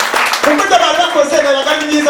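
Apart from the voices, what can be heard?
applause for the wedding couple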